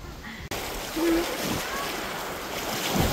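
Surf and waves along a beach, a steady wash of water and wind noise filling the scene, with a brief gap near the start and faint voices at moments.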